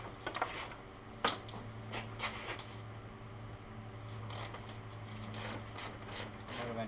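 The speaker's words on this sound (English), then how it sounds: "I'm going to get my ratchet over here behind the camera in a long extension, and we should be able to get these out" A ratchet on a long extension works 10mm bracket bolts loose on a Grizzly 660 ATV steering stem, giving quiet clicking bursts in irregular runs, close by.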